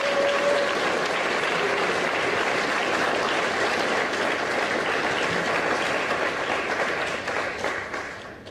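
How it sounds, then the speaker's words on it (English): Sustained applause from an audience at a JROTC awards ceremony, honoring the school's Booster Club, steady dense clapping that holds for most of the stretch before tapering off near the end. "So give them a round of applause."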